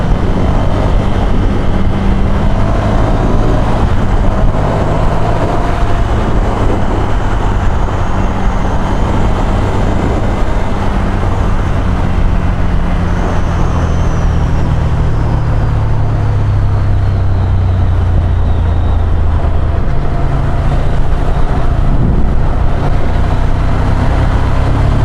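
A Ducati Scrambler 800cc motorcycle riding along a road, its steady engine drone loud and continuous with heavy wind rumble throughout, no voices.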